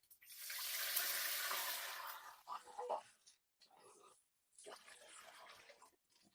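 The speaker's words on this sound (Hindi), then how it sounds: "1 लीटर पानी डाल दें।" About a litre of water pours steadily into a cooking pot of sautéed cumin for a couple of seconds, then comes in shorter splashing bursts with brief pauses, close and fairly quiet.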